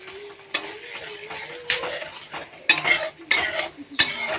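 Spice paste mixed with a little water is poured into a pan for stuffed bhat karela and stirred, a soft pour followed by sharp spoon scrapes and clinks against the pan, close up.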